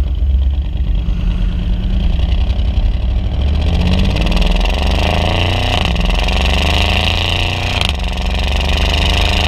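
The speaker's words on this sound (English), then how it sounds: "Once I hit Sport Plus, you hear the flaps go in the exhaust system." Porsche Panamera Turbo S, a 2015 Exclusive Series, with exhaust flaps opening in Sport Plus mode: a loud, steady engine drone that rises and swells in pitch partway through, continuous and close, with no talking.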